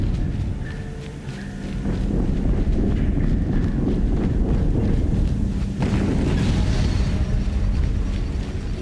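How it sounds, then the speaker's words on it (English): Explosion in the video game Horizon Zero Dawn, a loud rumbling blast that swells after a brief dip and keeps roaring with a sharp burst partway through, alone without talk. "Another explosion."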